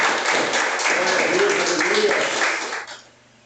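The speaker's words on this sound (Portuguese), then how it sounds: "Toda a igreja se coloca de pé e vamos aplaudir bem forte o nome do Senhor." A church congregation rises and claps hard in sustained, dense applause for about three seconds before it fades out, with voices mixed into the clapping.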